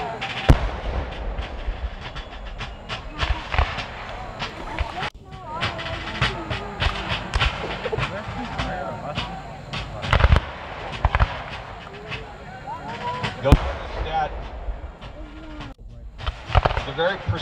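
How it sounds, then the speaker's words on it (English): Civil War reenactment Federal battalion firing muskets in volleys on command, sharp booming reports cracking out repeatedly amid outdoor crowd noise, with people talking in the background. "The very precise firing being done by that Federal battalion."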